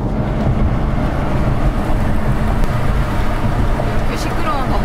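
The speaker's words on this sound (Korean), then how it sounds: "이렇게 시끄러운 덤프트럭 있고" A loud dump truck rumbling beside a Volvo S90 B5 sedan, its heavy engine noise pouring in steadily through a lowered window as a nearby roar with a broad low-frequency drone.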